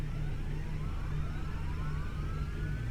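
A simulated L-100-30 turboprop engine spools up in a flight simulator, a steady loud roar with a low hum and rising whine tones sweeping upward, continuous and without talk.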